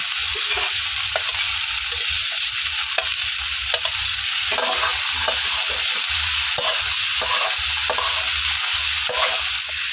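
Carrots, tomatoes, peas and green chillies sizzle in an oil-free pan while a spoon scrapes and stirs them, a loud continuous hiss broken by regular clinks and scrapes, with no voices.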